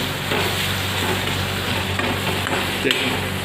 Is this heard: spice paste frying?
yes